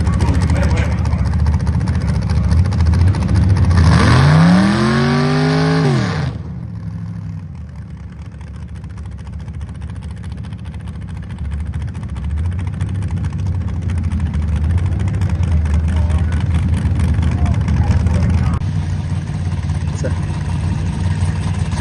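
At airport drag races, a drag racing car engine roars loudly for a couple of seconds with pitch rising, then cuts off. A lower engine rumble continues under an announcer talking over the public address.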